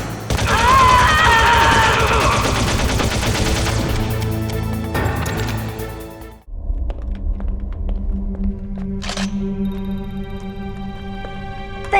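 Gunfire from the Metal Gear Solid game, a dense rattling burst of rapid shots and impacts in the first half under game music and effects, then a quieter stretch with a lone sharp sound.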